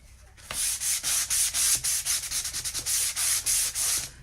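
Hand sanding along the edges of wooden cabinet doors to distress them, a quick series of close, loud rasping strokes in an uneven back-and-forth rhythm.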